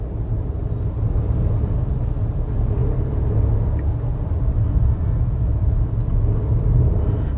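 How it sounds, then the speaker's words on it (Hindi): A Maruti Brezza with a manual gearbox drives along in fourth gear, its engine a steady low rumble with road noise that holds even throughout, with no talking. "अब ये गाड़ी जो है एकदम से इसका ऐसा लग रहा है कि इसका इंजन जो है एकदम खुल चुका है"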